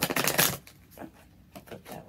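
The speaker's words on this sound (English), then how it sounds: "All right, last shuffle." A deck of cards riffles in a dense burst, then a few lighter taps and shuffles follow at close range, with no talking.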